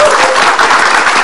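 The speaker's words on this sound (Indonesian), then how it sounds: "dia boleh kita kasih tepuk tangan." A short, dense burst of audience applause at a political discussion about a presidential candidate, loud and steady for just over a second with no voices over it.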